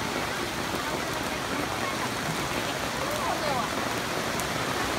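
Steady rain pours down over an outdoor market in Thailand, a dense, even hiss of drops striking surfaces with no break, while faint voices blend into the background wash.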